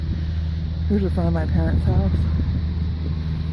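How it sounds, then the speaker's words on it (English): Road traffic noise in front of a house, a steady low rumble and wind-like hiss running under a voice throughout. "Sorry about the traffic noise."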